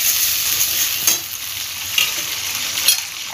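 Ginger and slit green chillies frying in oil in a pan, a steady bright sizzle throughout with a few soft stirring scrapes, close and fairly loud, no voices.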